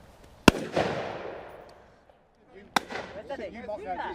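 Two sharp shotgun blasts ring out at a driven game shoot on Leighton Long Mountain, each loud crack trailing into a long outdoor decay, with voices talking after the second shot.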